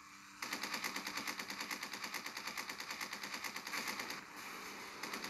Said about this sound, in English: Didn't think machine guns had much effect against cargo ships